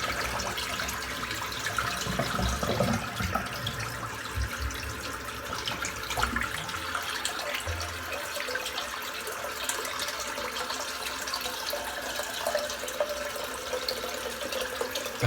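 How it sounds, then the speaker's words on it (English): Tap water runs steadily into a bathroom sink while a shaving brush's tips are rinsed under it, a continuous close splashing hiss with brief gurgles and no talk. "I'm just going to dip the tips under the tap."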